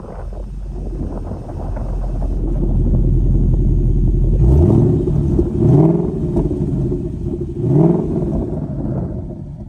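Close, loud revving from a 2011 Ford Mustang GT fitted with a GT500 muffler exhaust: a deep idle rumble, then three throaty throttle blips that rise and fall in quick succession, with no talking.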